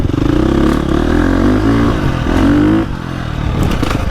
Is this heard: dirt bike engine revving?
yes